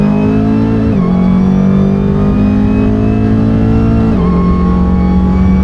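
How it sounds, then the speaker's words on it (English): Supercharged 1200 hp Dodge Hellcat Charger accelerating hard, a loud sustained engine roar with a pronounced supercharger whine on top, pitch climbing and dropping at two gear shifts, close and continuous with no talk. "I feel like the whine is louder, more pronounced."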